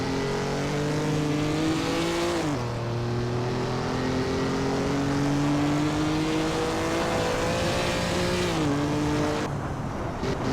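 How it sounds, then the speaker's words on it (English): Race cars from a 1950s Formula 1 championship round at the Dutch Grand Prix in Assetto Corsa drone steadily, engine notes rising and shifting through gears, with other cars audible farther off beneath. "You hear the other cars in the distance."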